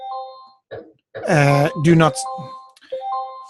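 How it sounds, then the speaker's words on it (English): Electronic beeping inside a room during a trading session: steady, repeating tonal beeps sound in short runs, and a person talks in between them. "we'll just wait till that stops beeping away"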